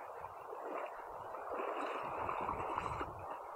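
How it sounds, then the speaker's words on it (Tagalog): Waves slap and wash against a small boat while jig fishing at sea, a steady broadband splashing and sloshing that stays fairly even with rougher surges toward the end, no voices. "medyo nakakatakot na rito kapag kasi malakas na yung alon"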